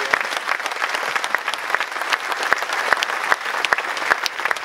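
Warm applause from an audience at a farewell event for Heracles chairman Jan Smit, greeting the club's general director; steady, dense clapping with sharp individual claps standing out, continuous throughout.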